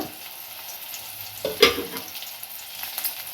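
Onions frying in ghee in a pan are stirred, giving a steady soft sizzle with a brief louder scrape and clatter near the middle, close and alone without speech.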